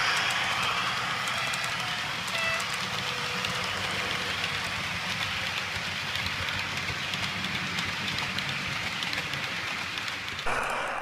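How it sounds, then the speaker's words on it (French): A heavy Paris express passenger train rolls past, heard from inside a locomotive cab: a steady, loud rushing roar with rail clatter that holds for about eleven seconds and cuts off abruptly near the end. "on va croiser le 1152, c'est l'Express de Paris, là"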